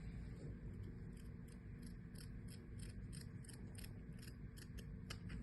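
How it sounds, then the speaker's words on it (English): Scissors snip repeatedly through cast stockinette during a lower-leg cast application, a steady run of faint, close crisp cuts over a low background hum, with no talking. "So I kind of grab it and just cut a little piece off of it."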